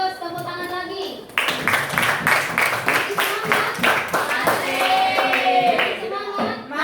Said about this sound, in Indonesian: Bagus, tepuk tangan lagi.